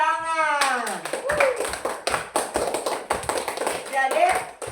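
Schoolchildren in a classroom clapping their hands in quick rhythmic bursts, close and loud, after a teacher's voice, with speech around the claps.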